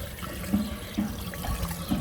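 A household water filter switched into backwash mode, water gushing and splashing steadily nearby, with a few soft gurgling surges and knocks at regular intervals.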